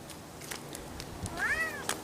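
Pet cat in its new outdoor enclosure giving a single clear, rising-and-falling meow near the end, close and fairly loud, after some soft rustling and faint background noise.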